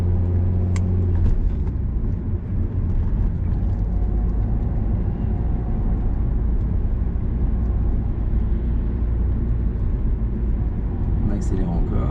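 A car in third gear accelerates with a continuous low rumble of engine and road noise that holds steady throughout, heard from inside the cabin.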